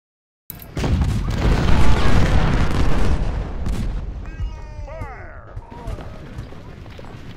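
A loud, sustained burst of booming cannon fire in the video game Ultimate General: Civil War rumbles and crashes, then fades into quieter battle noise with a brief voice near the end.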